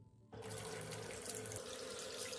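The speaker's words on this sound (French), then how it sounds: "Je vais ouvrir le robinet pour mouiller la brosse." A bathroom tap turned on to wet a toothbrush, water gushing steadily into a sink after an abrupt start, close and fairly loud, with no talking.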